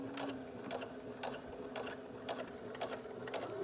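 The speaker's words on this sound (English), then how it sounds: "I'm going to slow down my machine a little more." A sewing machine runs at a slowed, steady pace while shirring fabric in the round, its even mechanical hum broken by regular needle clatters about twice a second, close and moderately loud with no talking.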